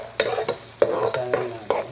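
Garlic sautéing in a pan sizzles softly while a spatula stirs it, with several sharp scraping taps in an uneven rhythm, close up and with no talking.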